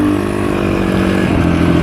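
A warmed-up motorcycle engine runs close by with a loud, steady throb, its pitch rising slightly toward the end.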